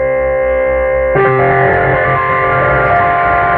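An electronic keyboard runs through a distortion pedal, sustained buzzing chords with rich, gritty overtones that shift to a denser, brighter distorted chord partway through, loud and without any voices.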